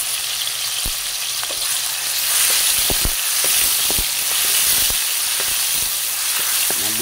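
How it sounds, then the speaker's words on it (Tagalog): Garlic, onion, tomato and ginger sauté in hot oil for carp sinigang, a steady sizzle with sharp clicks and knocks as the pieces are stirred. "ilagay ang ating bawang, sibuyas, kamatis at luya guys"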